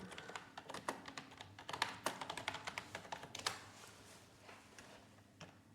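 Text typed on a computer keyboard while working in WordPress, a quick run of close, clicky keystrokes in uneven bursts that thins out into a few scattered taps, with no voices.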